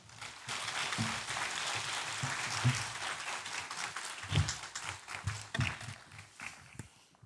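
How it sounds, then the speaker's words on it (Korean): Church congregation clapping to welcome a pastor coming forward during a Sunday service, a broad moderate applause that swells and thins unevenly, with a few low thumps and shuffling sounds mixed in. "목사님 나오실 때 큰 박수로 맞아 주시기 바랍니다"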